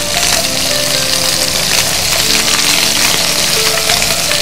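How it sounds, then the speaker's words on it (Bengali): Beef chaap frying in an open pan gives a loud, dense, continuous sizzle close up, with no talk over it. "খোলা অবস্থায় ভাজতে হবে, কি এটা লাল হবে, কালারটা ভালো আসবে, তাড়াতাড়ি আসবে।"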